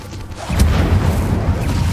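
Incendio fire spell cast in Hogwarts Legacy, the video game: after a quiet half-second, a heavy low whooshing burst of flame kicks in and roars steadily, loud and close, until the end.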